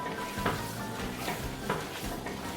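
Chopped vegetables frying in very hot oil in a gumbo pot for turkey and andouille gumbo, a steady close crackling sizzle with a few louder stirring scrapes, no voices.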